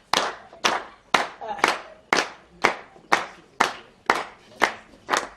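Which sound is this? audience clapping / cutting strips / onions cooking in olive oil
audience clapping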